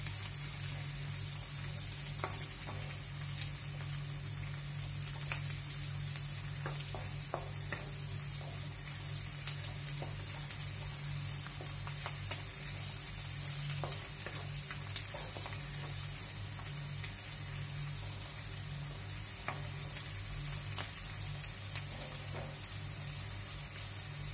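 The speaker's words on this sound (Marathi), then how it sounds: "फोडणी आपली झालेली आहे." A tempering of curry leaves for poha chivda sizzles in a pan, a constant low crackling fry with scattered tiny pops and stirring ticks, fairly faint and steady for the whole stretch, with no talk.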